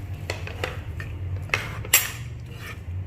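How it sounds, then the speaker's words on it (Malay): A utensil clinks and scrapes against a cooking pot as baby porridge is stirred on the stove, producing sharp intermittent knocks and scrapes, the loudest near the middle, with no talking. "sambil kita kacau bubur tu"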